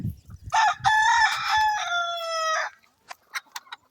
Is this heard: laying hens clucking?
yes